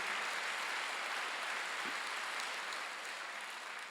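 A church congregation applauds during a Sunday worship service, a steady wash of many hands clapping together, fairly faint and distant, holding evenly for a few seconds and tapering slightly at the end.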